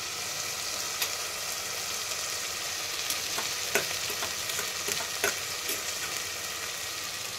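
Onion, ginger and garlic frying in a clay pot as yogurt is poured in, giving a steady dense sizzle with a few faint clicks and scrapes, close and fairly quiet throughout.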